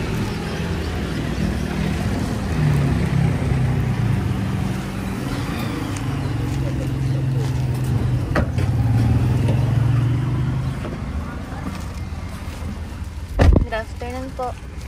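A red car approaching, a steady low engine rumble and road noise that swells and holds for several seconds, with voices talking over it and a sharp knock near the end.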